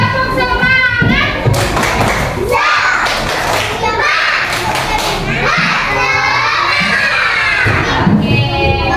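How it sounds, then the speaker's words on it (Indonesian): Schoolchildren in a classroom perform a rhythmic clapping chant, with loud group clapping and thumps mixed with shouting and cheering voices across the full stretch. "Yuk, tepuk semangat dulu, tepuk semangat."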